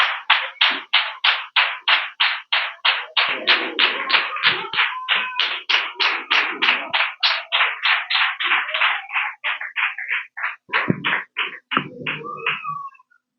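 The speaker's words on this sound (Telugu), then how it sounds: "క్లాప్స్ కొట్టిన అందరూ." A crowd at a Sunday school church gathering claps together in a long, steady run of rhythmic, close hand claps that fade out toward the end.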